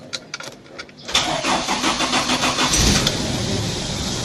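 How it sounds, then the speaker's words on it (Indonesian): A car engine with a weak wet-cell battery cranks briefly after being jump-started from a motorcycle battery, then catches and settles into a loud, steady idle close by. "Kita matiin dulu, kita tes saja. Kalau nggak bisa, kita jumper lagi."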